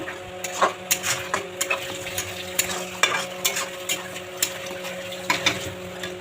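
A spoon stirs masala paste of fried onion and ginger-garlic in a pan, scraping in steady irregular strokes roughly every half second over a soft sizzle and a faint steady hum.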